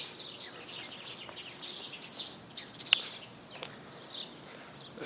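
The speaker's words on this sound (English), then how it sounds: "There's a bird." Bird chirping outdoors in open, quiet country, a few short high calls scattered over a soft background hiss, fairly faint and at some distance, with no voices.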